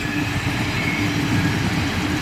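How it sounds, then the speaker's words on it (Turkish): A train rumbles past nearby, a steady heavy roar with low rhythmic rolling of wheels on track. "Trenlerimiz geçiyor."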